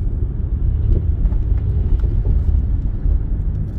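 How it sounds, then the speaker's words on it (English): A garbage truck on a city street, its heavy engine rumbling loud and close in a steady low drone with no speech. "Garbage truck holding up the show."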